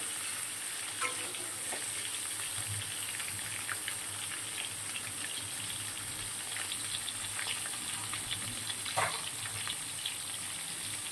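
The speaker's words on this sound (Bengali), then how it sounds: "এটা একটু লাল লাল করে ভাজবো ফুলকপিটা" Cauliflower frying in a pan in a home kitchen, a steady, close sizzle of oil with soft crackles and occasional stirring scrapes throughout, no voices.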